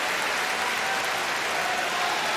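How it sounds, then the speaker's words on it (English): Japanese crowd at a world judo championship clapping loudly and evenly after an ippon, a dense, unbroken roar of applause filling the arena with no commentary over it. "Japanese crowd definitely letting her know they appreciate that effort"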